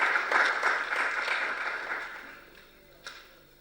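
An audience applauds, a dense patter of clapping that gradually thins and fades away, with one last clap near the end.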